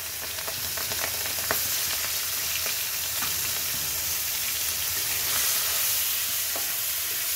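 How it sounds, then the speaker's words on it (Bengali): Prawns fry in hot oil with a loud, even sizzle and occasional stirring clicks, close and continuous with no talking. "তেলের মধ্যে চিংড়ি মাছটা দিয়ে দিলাম।"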